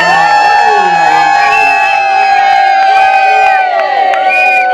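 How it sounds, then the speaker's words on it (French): Guests at a civil wedding ceremony cheer and shout loudly, with high excited voices and whoops layered over one another in a continuous, close, energetic crowd roar. "Applaudissez-moi."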